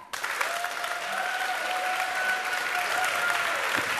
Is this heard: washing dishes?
no